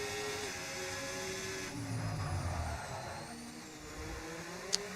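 F1 race cars from F1 25 whine around a track, a steady engine drone with rising and falling pitch sweeps as cars pass, fairly distant and continuous, ending with a brief sharp click.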